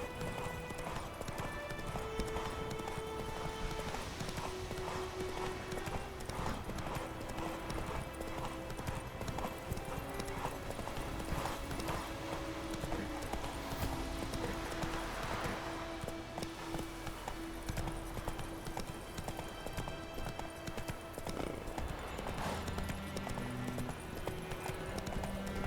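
Roach, a horse in The Witcher video game, gallops with steady, rapid clip-clop hoofbeats that stay close and loud over a continuous bed of game music and ambience.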